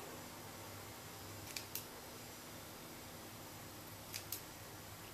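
Scissors trimming the ends of hair, two pairs of crisp, close snips separated by a few seconds over a faint steady room hiss.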